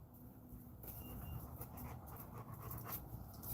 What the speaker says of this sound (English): let me show you guys my my new Great Dane